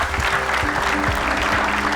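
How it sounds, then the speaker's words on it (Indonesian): Steady applause from a crowd, dense and continuous clapping close by for the whole stretch. "kita berikan sambutan dengan tepuk tangan Ustadz Danu"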